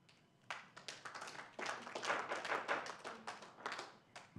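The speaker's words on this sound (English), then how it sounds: "Please, no applause." Scattered, fairly quiet clapping from a few attendees at a town council meeting, irregular bursts of claps with no talk over them.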